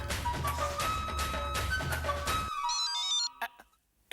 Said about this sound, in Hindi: लो आ गया माय डियर जीजा जी का फोन